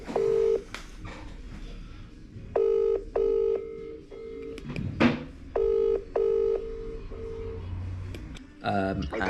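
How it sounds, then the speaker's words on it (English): A telephone rings in an office during a call about property viewings and refurbishment, its bursts of electronic tones repeating with short gaps, fairly loud and clear, with people talking softly around it. "Answer the phone."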